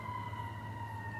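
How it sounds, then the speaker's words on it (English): An ambulance siren passes at a distance, a faint steady wail holding its pitch over low traffic rumble, with no voices. "there's another ambulance"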